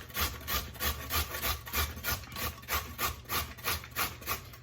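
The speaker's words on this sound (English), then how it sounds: "We're gonna shred the carrot." Rhythmic back-and-forth scraping of a carrot shredded on a box grater for spicy Haitian coleslaw, about a dozen quick strokes, close and fairly quiet, with no talking.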